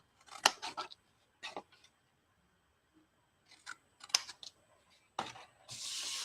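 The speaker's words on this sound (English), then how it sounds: "We'll cut up and wedge this flap" Scissors snipping through the paper flap of a handmade painted gift box, a few short crisp cuts in separate bursts with quiet gaps between, close and fairly soft, ending in a brief rustle.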